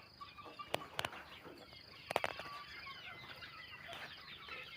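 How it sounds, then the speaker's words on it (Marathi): Backyard village chickens cluck and squabble while pecking at leftover rice and home food scraps, with scattered close clucks and a few sharp squawks over a steady outdoor hum. "बघा किती आवडीने कोंबड्या खात आहेत"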